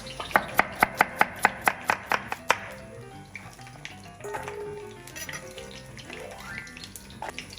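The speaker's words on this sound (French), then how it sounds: "je vais couper les légumes." A knife chops vegetables such as leek and turnip on a cutting board, about a dozen crisp, evenly spaced strikes close by, followed by quieter kitchen handling noises, with meat browning in a pan nearby.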